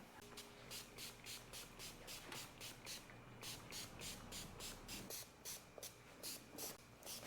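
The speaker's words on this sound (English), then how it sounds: "I'm gonna spray the whole side of that jet ski real quick" Rapid Tack application fluid sprayed from a pump bottle onto the side of a Yamaha Superjet jet ski during a wrap install, a run of short rhythmic hissing bursts, close and fairly loud, with no talk.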